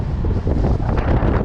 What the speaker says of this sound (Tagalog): Mahangin pa, yan o.